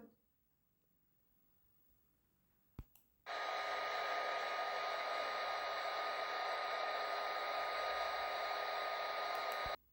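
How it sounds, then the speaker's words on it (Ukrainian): After a quiet start and a couple of clicks, a hair dryer switches on and blows with a loud, steady whoosh until it cuts off. "Це звуки працюючого фена."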